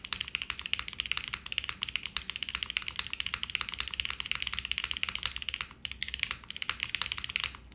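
Steady, brisk typing on a Jris 80 TKL mechanical keyboard, a $165 tenkeyless board, with dense clicky keystrokes running continuously at close range and only a brief pause near the end.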